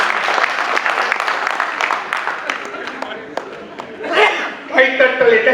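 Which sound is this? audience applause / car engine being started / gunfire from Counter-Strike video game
audience applause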